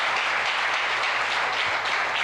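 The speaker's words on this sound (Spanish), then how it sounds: "La iglesia le da un fuerte aplauso y le damos la bienvenida en esta mañana" A church congregation at a morning service applauds in a dense, steady wash of clapping from many hands, sustained for a couple of seconds with no voices standing out.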